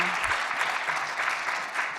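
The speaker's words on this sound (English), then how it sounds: "third round of applause, we love it" An audience claps steadily for the whole stretch, a full, sustained round of applause from a crowd with no voices standing out.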